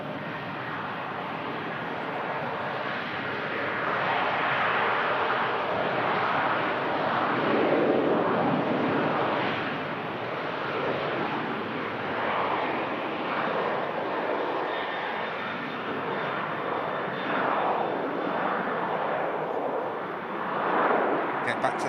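An airliner departs Manchester Airport with a broad, sustained engine roar that swells and wavers over about twenty seconds, steady and fairly loud throughout with no clear break.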